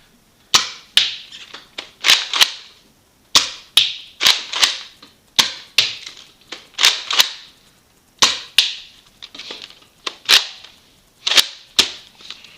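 A Hasbro Star Wars The Force Awakens Rey Nerf blaster toy is repeatedly cocked and fired, giving close sharp snapping shots and clicks in irregular clusters across the clip.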